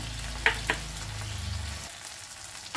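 Spices, green chili paste and whisked yogurt sauté in a pan for a rohu doi maach fish curry: a soft, steady sizzle with a couple of clinks of a stirring spoon, close and quiet, with no talk.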